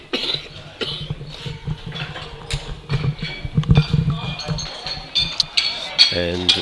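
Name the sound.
cough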